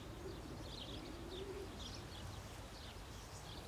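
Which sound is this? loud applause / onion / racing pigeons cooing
racing pigeons cooing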